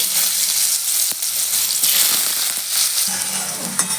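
Small diced potato pieces fry in hot oil with a dense, loud, continuous crackling sizzle, close up, with a few faint knocks in the pan and no speech.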